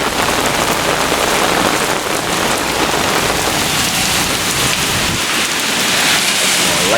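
Heavy rain pours steadily during a severe thunderstorm in Brooklyn, New York, a loud dense hiss of drops drumming on surfaces that fills the whole stretch without pause.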